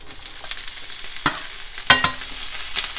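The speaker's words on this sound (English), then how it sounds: "And then we're gonna get our veggies in there." Vegetables sautéing in a little oil in a skillet for beef ramen, a soft continuous sizzle with a few sharper clacks and scrapes of stirring, close and clear.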